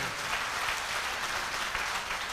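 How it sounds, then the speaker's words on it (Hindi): Dense, continuous applause from a large audience at a motivational seminar, a steady wash of clapping heard at a distance and fairly quiet throughout. "एक बार जोरदार तालियां ऐसे ग्रेट मेंटर के लिए"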